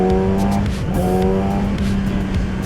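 A Yamaha R6 motorcycle fitted with its stock exhaust gives a loud, steady engine drone with a strong tonal hum that dips briefly and then holds, heard close up for a few seconds.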